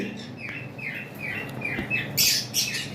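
Sun conure parrots chirping on a bird farm: a quick run of bright, short chirps repeats over a soft background, ending in a few harsher, louder calls.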